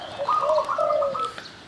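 A spotted dove (tekukur) coos outdoors before sunrise at dawn, a soft, clear, fairly close call rising and falling over under two seconds with no talking.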